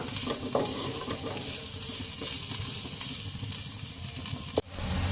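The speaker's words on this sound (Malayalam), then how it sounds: "ബീൻസും കൂടെ ഇട്ട് നമുക്ക് നല്ലതുപോലെ ഒന്നും കൂടെ വഴറ്റിയെടുക്കാം" Beans and onions sautéing in ghee for upma, a soft continuous sizzle with occasional stirring scrapes and a single sharp knock near the end.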